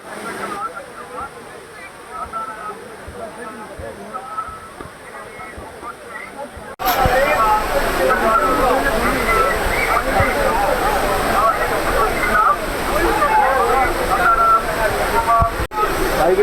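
The Courtallam waterfall pours and splashes in a continuous wash of rushing water, moderate at first and then much louder and closer after a sudden jump halfway through.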